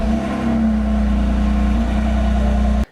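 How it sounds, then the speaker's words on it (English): BMW F80/F82 M3/M4 engine running at a steady idle after an oil catch can install, a continuous low rumble with a stable hum that holds evenly throughout and cuts off abruptly at the end. "We're going to turn the car on before we put everything back together"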